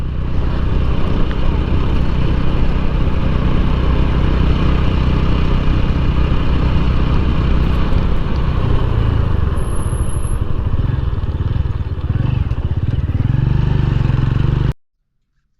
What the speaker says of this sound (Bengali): আমি পাহাড়ে বাইক রাইড করতে করতে একটি পয়েন্টে এসে দাঁড়িয়ে পড়লাম।